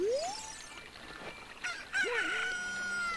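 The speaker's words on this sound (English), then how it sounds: "a chicken hatched from the egg you were incubating" A rooster crowing in the video game Zelda: Ocarina of Time, a rising synthesized crow followed by a wavering, honk-like call and sustained tones, fairly clear with no talk.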